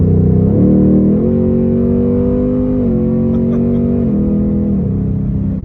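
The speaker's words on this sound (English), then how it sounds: "It's a perfect sound to me because, you know, it has everything you love about a V8. You know, it's got the presence, it's got the roar." A 2021 Ford Mustang Mach 1 V8 in sport mode roars loud and close, holding a steady deep rumble as the revs rise and fall in several smooth swells, with no talking.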